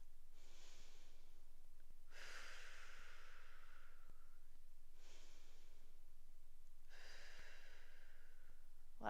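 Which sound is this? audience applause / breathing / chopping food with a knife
breathing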